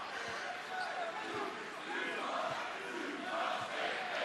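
Basketball arena crowd at a Grand Canyon vs Utah State college game in Logan, a dense sustained roar and cheering from a packed venue, with a commentator talking over it and faint ball bounces.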